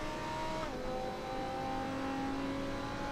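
Lamborghini Huracan GT3 race cars lapping Barcelona GP in a sim racing game, engines droning loudly and continuously at high revs with a gearshift-like pitch drop partway through, one car running close behind another.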